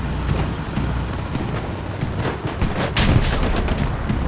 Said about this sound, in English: Could be a AT gun shooting at it.